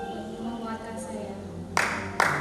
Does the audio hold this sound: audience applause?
yes